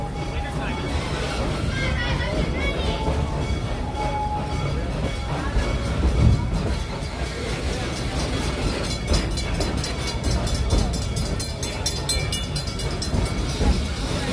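Steady rumble and clatter of the Serengeti Express train at Busch Gardens Tampa rolling along rails, with a loudspeaker voice talking over it throughout.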